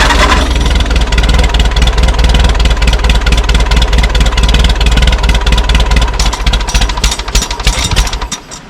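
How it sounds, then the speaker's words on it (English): A tractor engine on a cold start runs loud and close for the whole stretch, with a rough, rapid knocking chatter and sharp pops that fade near the end. "backfired"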